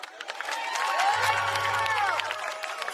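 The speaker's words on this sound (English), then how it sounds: "Everyone give a round of applause for Brian Fox." Outdoor rally crowd at a march in New York clapping and cheering for a city council candidate, a spread of claps and whoops with a sustained low hum and voices mixed in.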